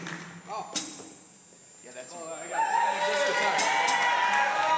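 Audience at a college theatre cabaret breaks into cheering and whoops after a brief lull, rising to sustained crowd noise with scattered thumps, fairly loud and steady to the end.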